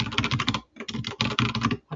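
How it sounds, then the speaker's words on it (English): Rapid, dense typing on a computer keyboard during a competitive programming session, close and clear, in bursts with a short pause near the middle and no voices. "What's wrong with my typing though?"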